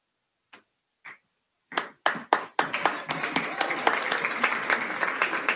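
At a school's Year 12 final assembly, applause for teacher Mr. Matthews starts with a few scattered, distinct claps. It quickly swells into dense, continuous clapping from the gathered audience, which holds steady to the end.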